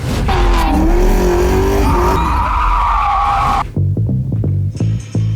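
A car engine revs loudly and tires squeal in a long, wavering skid close by, then the engine drops to a rough, pulsing idle.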